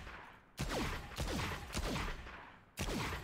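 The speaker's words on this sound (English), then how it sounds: "pull out a deagle and do stationary and just hit my shots" Loud, sharp Desert Eagle pistol shots in the video game Valorant, fired in a steady cadence of several single blasts, each with a ringing tail, no talking.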